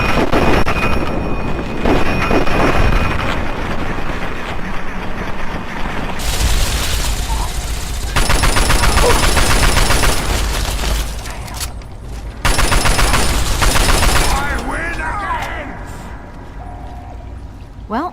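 Gunfire and explosions in Fallout 3 combat, loud dense bursts of shooting and booming blasts that start and stop in blocks, with sharp crackling shots and some voices mixed in.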